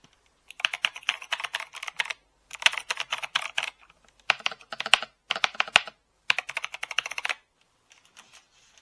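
Commodore 64 keys clatter in several quick bursts of close, crisp clicking, separated by short pauses, with no one speaking.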